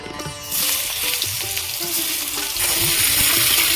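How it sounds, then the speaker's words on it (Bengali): Green jackfruit pieces dropped into hot oil for a Bengali curry erupt in a loud, bubbling fry that holds steady, with a brief stirring clatter and a surge in sizzle near the end. "এবার আমি এঁচড়গুলো ভেজে নেব"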